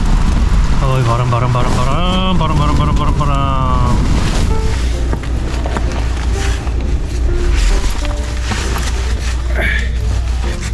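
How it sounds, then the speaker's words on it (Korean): Strong wind roars across a stormy coastal beach at Gadeokdo with surf churning beneath it, a loud constant rush buffeting the microphone, while a person speaks briefly near the start. "어이 바람."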